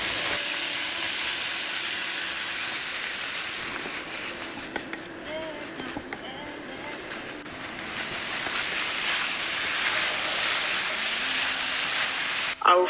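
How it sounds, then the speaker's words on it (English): Vegetables fry in a pan for homemade fried rice, giving off a loud, continuous hissing sizzle that dips slightly midway and then swells again, steady throughout. "I'll fry my veggies for about 10 minutes"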